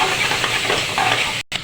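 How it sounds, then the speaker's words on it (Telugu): Onions and green chillies fry in a pan with a loud, close, steady hiss and sizzle that briefly cuts off near the end. "ఉల్లిపాయలు పచ్చిమిరకాయలు వేస్తాను ఇందులో."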